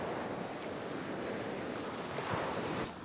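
Sea waves wash onto a beach on an island near the North Korean border, a steady broad roar of surf with wind noise on the microphone, close and continuous throughout.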